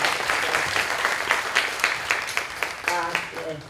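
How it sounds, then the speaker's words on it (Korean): Audience applause for Sakaguchi at a beauty and commerce event, a moderate patter of clapping from a gathered crowd with a few sharper claps standing out and a voice starting up near the end. "坂口さんちょっと拍手をお願いします皆さん"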